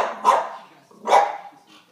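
A dog barks at a dog appearing on a television show, two loud close barks followed by a fainter third yip, with quiet gaps between.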